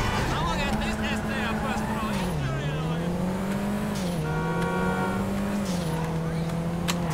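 Panto racing car engine in GTA 5 Online droning at steady high revs, with pitch dipping and climbing through gear changes over several seconds, loud and continuous with faint tire noise.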